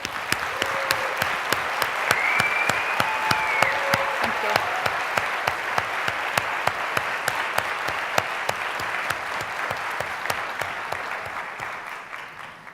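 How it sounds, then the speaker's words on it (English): An audience at a Data + Women panel event applauds the panelists with a dense, steady round of clapping that fills the room and fades slightly at the end, with a brief spoken thanks over it. "I'd love for you to join me in a round of applause for them."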